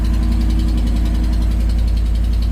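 A 2015 Dodge Ram 1500 Tradesman 4x4 with the 5.7L engine idles loudly and close with a nasty exhaust leak, giving a steady, rapid ticking pulse over a deep drone.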